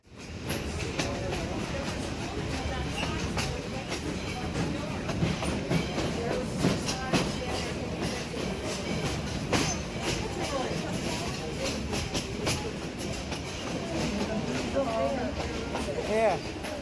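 A Wilmington Western Railroad steam train led by locomotive 58 rumbles steadily along the track, with continuous heavy wheel noise and rhythmic clacking, loud and close throughout.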